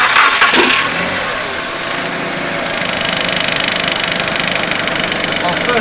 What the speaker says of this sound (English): First of all, just on the idle, there's no check engine light